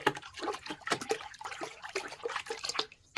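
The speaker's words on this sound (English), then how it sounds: "I'm going to throw in 4 ounces of solution in there" Rinseless wash solution is stirred into a bucket of water, making continuous close sloshing and splashing with irregular swirls of liquid throughout.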